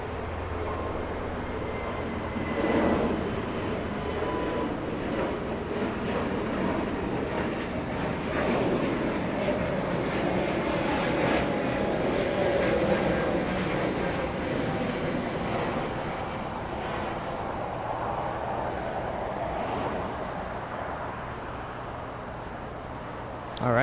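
A Spirit Airlines Airbus A320neo bound for Cleveland takes off at LAX, a broad, steady jet engine roar rising and holding for the whole stretch at moderate distance, with faint airport background.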